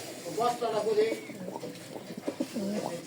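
Racing pigeons coo in soft, repeated throaty calls at close range, mixed with someone talking over them.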